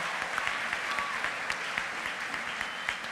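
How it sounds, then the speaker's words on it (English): An audience at a 2018 university commencement claps steadily after a musical performance, a dense patter of hands filling the space without pause. "Let's give them another round of applause for that wonderful gift of music"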